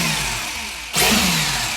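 A sensored motor in a Hoonicorn-style RC car revs up, a steady mid-pitched electric whine that surges sharply louder halfway through and holds at a higher, brighter pitch.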